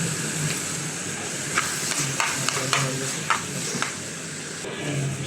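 Red spinach fries in a pan, a steady hissing sizzle with scattered spatula scrapes and knocks, heard up close without talk.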